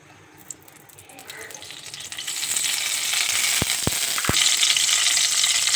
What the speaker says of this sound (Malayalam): ഇത് ചൂടായി കഴിഞ്ഞു നമുക്ക് എണ്ണ ഒഴിച്ചു കൊടുക്കാം.